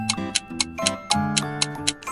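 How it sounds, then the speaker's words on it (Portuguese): Clock ticking: a steady, even tick-tock, close and clear, about four ticks per second, with a faint musical tone underneath. "relógio,"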